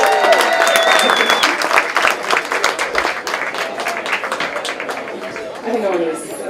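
Audience applause at a social justice center anniversary event, loud at first and tapering off, mixed with cheers, chatter and a few voices.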